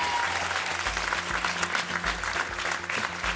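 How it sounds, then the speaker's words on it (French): A TV game show studio audience breaks into loud, sustained applause, a dense continuous wash of clapping that stays steady throughout with no speech over it. "on peut encore les applaudir"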